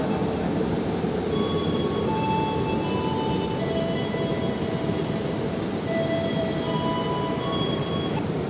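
A train at Tugu railway station runs past at close range with a steady rolling rumble and clattering wagons, and brief high squeals from the wheels rise over the noise.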